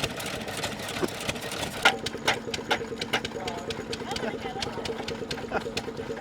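An Associated Manufacturers open-crank stationary engine runs at a country show, chugging in a steady rapid rhythm at moderate distance, partly under people talking nearby.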